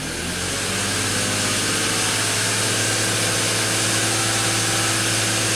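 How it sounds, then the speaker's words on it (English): A BMW X5 engine with a misfire and lean fuel trims revving up, a loud, dense mechanical roar that builds over the first second and then holds steady with a constant low drone. "When I revved the engine up,"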